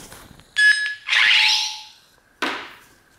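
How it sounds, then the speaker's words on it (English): A Nano Biscotte V2 lightsaber sound board switches sound fonts, giving a tonal chirp followed by a broad whooshing hum swell and then a sharp clash-like burst, all close with no speech. "it also does switch sound fonts if you hold the button down"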